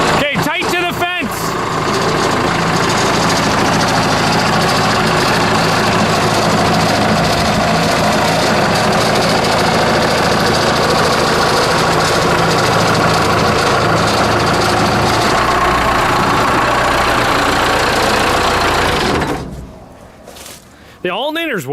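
An engine on a project vehicle runs steadily after oil is added, a loud continuous rumbling idle with some knocking that dominates until it dies down near the end, with voices heard at the start and finish.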